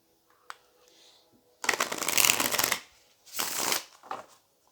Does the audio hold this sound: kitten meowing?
no